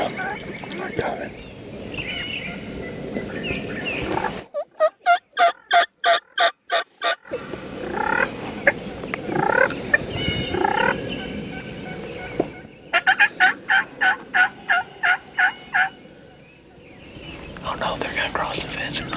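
Wild turkey toms gobble in rapid rattling bursts, two long loud volleys close by, with hushed whispering voices and rustling outdoors between them.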